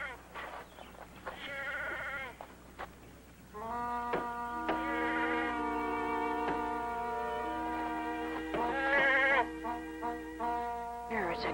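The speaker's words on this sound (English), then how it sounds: "There, it's a goat." Goats bleat repeatedly on a farm, a series of wavering, nasal cries at moderate distance, some long and sustained, others short, over a faint steady background hum.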